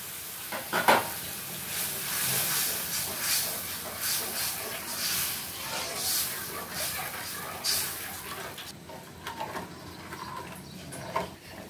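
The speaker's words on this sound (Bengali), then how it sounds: "দেখো সরষার ঝোলটা ফুটে উঠছে" Mustard gravy bubbles and sizzles in a pan while fish is cooked in mustard, a steady close crackle lasting throughout with occasional sharper spatters and light clatter.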